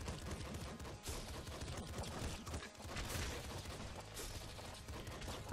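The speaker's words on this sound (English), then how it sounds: "Grenade launcher." A grenade launcher firing in the Nuclear Throne video game, a dense barrage of explosive booms and crackling blasts layered over a constant game soundtrack, loud and sustained for several seconds.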